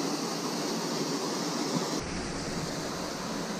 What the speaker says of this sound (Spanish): Tremenda cascada en medio de las sierras de Córdoba, en Characato.